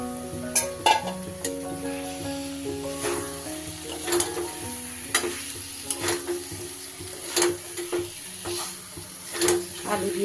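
Fried potatoes stirred into sizzling masala in a pan while cooking vegetarian aloo dum, with steady frying sizzle and clinks of a spoon against the pan.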